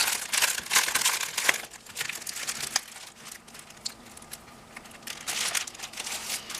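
A plastic packet of craft paper ephemera such as doilies is opened, giving close, loud crinkling and tearing rustles in bursts that ease off midway and pick up again toward the end, with no talking.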